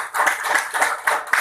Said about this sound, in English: let us clap our hands for our judges